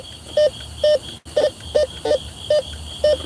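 Bounty Hunter metal detector sounding a series of short, steady electronic tones, about seven evenly spaced beeps at a moderate level over a faint background hiss during a night coin hunt.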